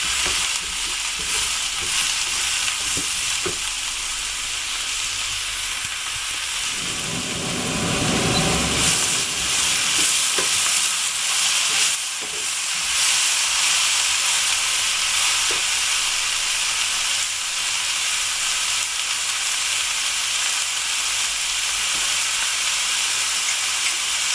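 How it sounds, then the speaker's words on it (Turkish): Zucchini fries in a pan, a constant loud sizzle and hiss with intermittent scraping and stirring sounds over it. "Şimdi sürekli karıştırıp hafif kabakların ölmesini sağlayacağım."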